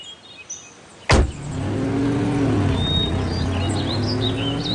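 A cartoon car drives along: a sharp burst is followed by a steady engine hum with rising, chirpy tonal accents, fairly loud and with no speech.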